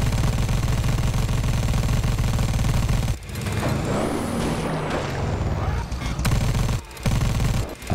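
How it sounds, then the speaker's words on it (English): Gunfire in the Dead Rising 4 video game, a loud, sustained rapid burst of an overheating gun that fills the first few seconds and then gives way to rumbling game noise with a few more sharp hits. "Okay, so the gun overheats."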